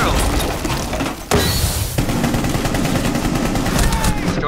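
Rainbow Six gunfire shooting a claymore: a dense, loud run of rapid shots under continuous firefight noise, with a sharp burst and a crash partway through, and a voice speaking underneath.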